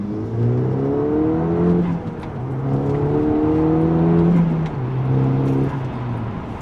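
A modified Audi S3 8P with the 2.0 TFSI engine and K04 turbo accelerates along a country road, its steady engine note climbing through the gears in rising sweeps with brief dips at each shift, loud and close.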